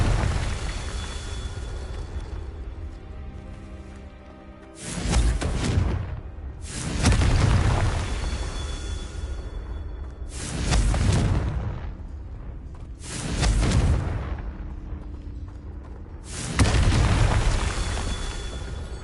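Fiery Confringo spell blasts from the Hogwarts Legacy video game: about five loud, booming bursts a couple of seconds apart over a steady rumbling ambient bed, with no voices.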